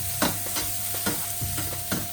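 Steak cooking in a pan for a simple three-ingredient bulking recipe, giving a steady broadband sizzle with a few brief clatters of stirring or turning, close and alone with no talking.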